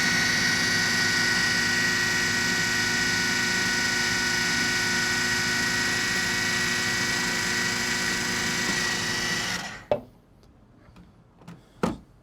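A food processor whirs loudly and steadily while blending pesto sauce with oil, a sustained motor drone that stops abruptly, followed by a few soft knocks and clatters.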